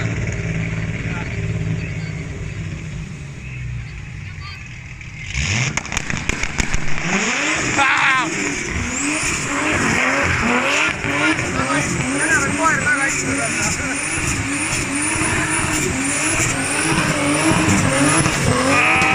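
A BMW M20 turbo street-legal car, built as a street car, roars up after a quiet opening with revving and loud rising engine pulls, alongside other racing cars at a motorsport event, with crowd noise and voices underneath.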